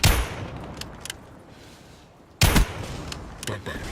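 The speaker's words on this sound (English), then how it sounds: "Now we'll move on to some gameplay of the Dragoon, the new bolt-action sniper rifle." Two loud, sharp shots from the Dragoon bolt-action sniper rifle in Black Ops 3, spaced about two seconds apart, each followed by a decaying tail and faint mechanical clicks.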